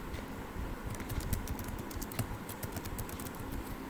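Quiet, quick typing on a computer keyboard while an email body is written, with key clicks coming in fast irregular bursts over a low steady background hum.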